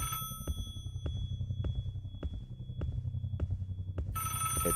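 Telephone bell ringing in a Roblox game, repeated evenly spaced rings over a low droning background hum, fairly faint and with no talking.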